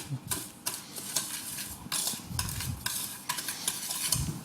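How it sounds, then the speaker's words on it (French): Softened butter being stirred with caster sugar in a bowl for Christmas cupcakes, a close scraping, rhythmic mixing sound with repeated strokes and no talk. "Et là, on va mélanger le sucre."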